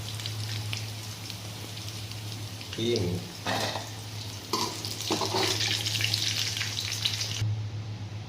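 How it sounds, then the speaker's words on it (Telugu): Potatoes and paneer frying in a pan, a steady close sizzle with a low hum underneath and a few brief clinks, while someone speaks over it. "ఇప్పుడు ఎంతలాగా వేగాయి, ఇంకా కొంచెం వేయించుకోవాలి మనము"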